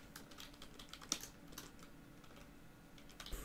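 Keyboard typing at a computer while naming a new mask in Blender's compositing nodes: faint, sparse key clicks spread over a quiet, steady room hiss, with no voices.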